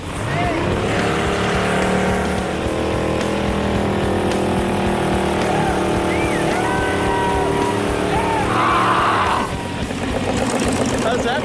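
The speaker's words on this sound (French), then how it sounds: "Tu vois l'échappement?" The exhaust of a custom-built hearse engine rumbles and revs loudly and continuously nearby, holding a steady throaty note that swells and eases, with voices mixed in.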